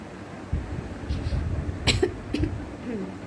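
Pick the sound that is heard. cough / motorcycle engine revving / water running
cough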